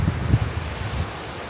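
Coastal wind at Fundy National Park rushes steadily and loud over the microphone, a low continuous buffeting without talk.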